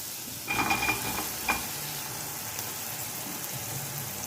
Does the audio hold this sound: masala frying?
yes